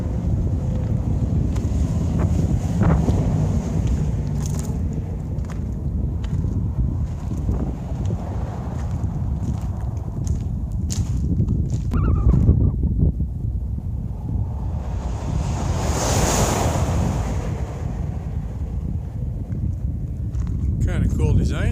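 A headwind roars against the microphone as a rider climbs gently uphill near the Nellis Dunes outside Las Vegas, a loud continuous low rumble with gusting swells and brief rattles throughout.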